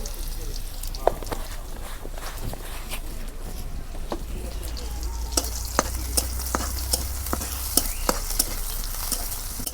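Cumin seeds sizzle in hot oil in a pan for a small-fish and okra curry, a steady close crackle broken by sharp clicks and scrapes of stirring.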